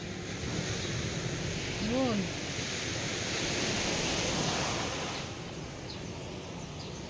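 Choppy night sea surf at Lobo, Batangas rolls in a steady broad wash with wind buffeting the microphone; a brief spoken word cuts in near the start before the waves carry on alone and ease slightly toward the end.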